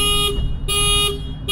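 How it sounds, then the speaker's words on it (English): A car alarm blares loud and close on Guam, its harmonic siren tone pulsing in repeating on-off cycles of roughly 0.7 seconds over a steady low rumble, with no voices. "The car alarm went off"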